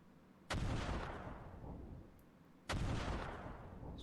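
Aircraft strafing ground targets in the CMO combat simulation game: two loud, heavy bursts, the second about two seconds after the first, each slowly fading into a rumbling tail.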